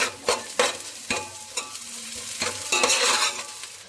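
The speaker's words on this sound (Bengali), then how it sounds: "তো এটা আমি চামচ দিয়ে মিশিয়ে নিলাম।" Spoon stirring a mixture in a home kitchen, with repeated scraping strokes against the bowl at an irregular rhythm, close and fairly loud, alone with no talking.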